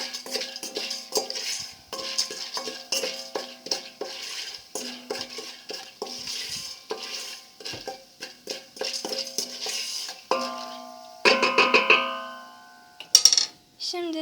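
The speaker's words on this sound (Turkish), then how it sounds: "Şimdi bunları güzelce karıştırıyorum." Popcorn kernels and chili flakes rattle in a metal pot as a spoon stirs them, a rapid run of dry clicking strokes near the mic, ending with a few louder metallic clanks and a ringing knock.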